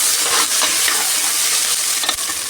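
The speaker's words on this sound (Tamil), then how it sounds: "வெங்காயம் கொஞ்சம் நல்லா வதங்கட்டும்." Onions frying in a pan with whole spices, a steady bright sizzle with scraping stirring strokes and light clinks, close and alone with no talking.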